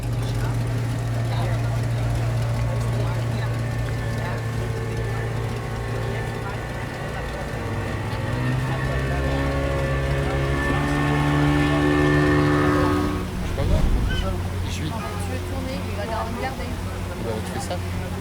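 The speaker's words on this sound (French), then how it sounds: "On embarque sur un catamaran de 15 mètres à double moteur." Twin engines of a 15-metre catamaran droning steadily under way, a low continuous hum with a brief surge near the end, while people talk over it.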